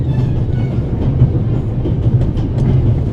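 A train in The Raven: Legacy of a Master Thief runs on rails with a loud, continuous low rumble and rhythmic clickety-clack of wheels over track joints, steady throughout.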